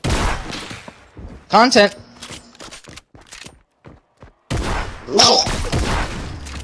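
Bursts of video game gunfire in two loud clusters separated by a quiet gap, with a player shouting briefly over the shots.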